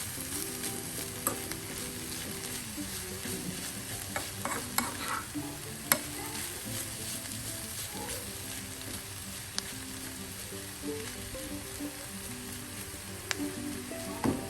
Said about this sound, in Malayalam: വീണ്ടും അതൊന്ന് കൂടെ മിക്സ് ചെയ്യാം.